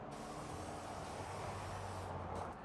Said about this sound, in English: spray the grates with oil